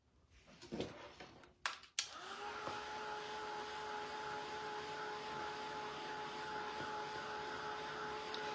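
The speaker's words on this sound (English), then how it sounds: "I'm going to dry it just a little and put a second coat on." A handheld dryer blows on wet paint between coats, starting after a few clicks and rustles and then holding a steady, loud whirring hum with a constant whine.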